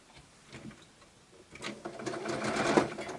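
A sewing machine chain-pieces nine-patch quilt block squares, starting faint and building into a close, steady rapid stitching whir.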